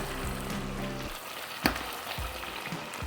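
Chicken sizzles steadily in a hot pan while cooking for chicken tikka masala, a soft, continuous frying hiss with a few faint clicks and pops.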